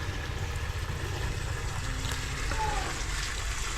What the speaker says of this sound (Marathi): राहिलेलं ह्या दोघांना पाणी घालायचं,